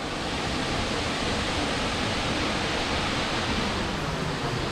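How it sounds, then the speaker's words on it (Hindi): Ryumon waterfall in Kagoshima, Japan roars as a dense, steady wash of falling water, full and unbroken throughout with no talking. "ये पहुंच गए हम उस वाटरफॉल में, रियूमोन वाटरफॉल।"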